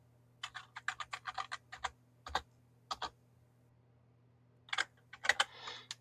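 Computer keyboard keys clack in quick irregular runs of single presses, close and crisp, with pauses between bursts and a steady low hum underneath.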